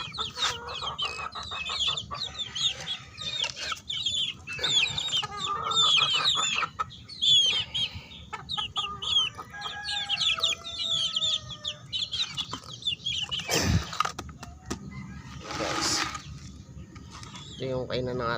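Chickens and young chicks at a feeding area cluck and peep throughout, with busy overlapping calls close by and a few sharper outbursts near the end.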